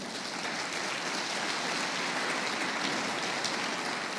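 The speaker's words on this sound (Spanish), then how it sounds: "Necesitas dale un aplauso al Rey" A church congregation claps together in a dense, even patter, sustained and fairly faint, with no voices rising above it.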